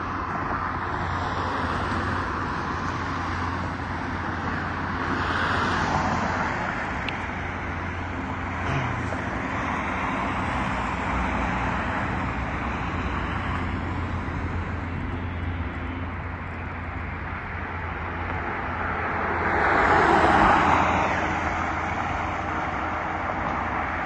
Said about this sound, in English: The jet's flying in front of me